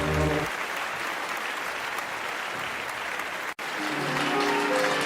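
Applause and cheering from a concert audience at a show: a steady wash of clapping that holds evenly for several seconds, with a brief break near the end before the crowd noise resumes.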